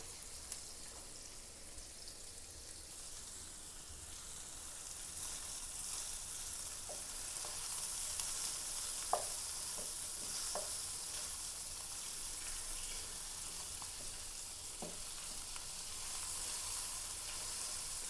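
Large fish frying in a pan with meat masala makes a steady, faint sizzle and hiss, with a few small pops scattered throughout.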